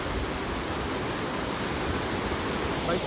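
Water rushes steadily over Khadkhad dam, a dense, continuous roar close by with no breaks, filling the whole span evenly.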